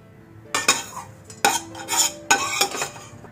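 A spoon scraping roasted coconut out of a kadhai onto a plate, with three bursts of close metallic scraping and clinking, no voices.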